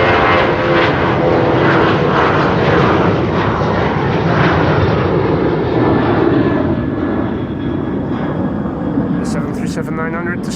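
A Boeing 737-900 roars down the center runway at Schiphol on northbound departure, a loud sustained jet rumble that gradually thins and fades as it climbs away.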